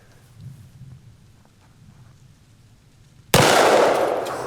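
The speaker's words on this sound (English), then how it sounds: "This is my very first shot with the new hand cannon" A hand cannon handgun fires a single loud, sharp shot with a lingering decay, after several seconds of quiet outdoor ambience.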